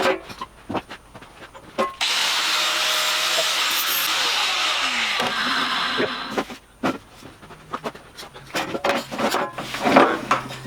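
A power linisher grinds the outside of a seat panel in one sustained, loud abrasive pass lasting about four seconds, followed by sporadic shorter bursts of sanding and clattering handling noises nearby.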